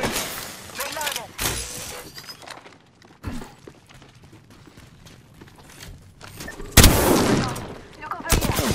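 Gunfire in a first-person shooter game, several loud sharp shots and bursts spread across the stretch with quieter ambient game noise between, and a voice talks at times.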